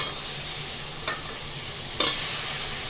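Brinjal pieces tipped into hot masala in a pan for a brinjal, potato and dried prawn bhaji, giving a steady close sizzle with two brief louder scrapes and splashes as they are added and stirred.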